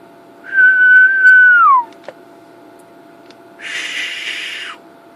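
A person whistles into the standard microphone of a CB radio during a power test: one steady, loud whistled tone that glides down at its end, a short click, then a second, breathier whistle burst after a pause, with no talking.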